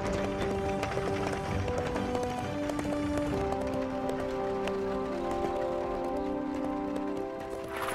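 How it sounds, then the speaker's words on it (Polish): A horse gallops in the animated children's series Fireman Sam, its rhythmic hoofbeats steady and continuous beneath a sustained musical score, moderately distant and with no speech. "Dogonił go i spowalnia galop."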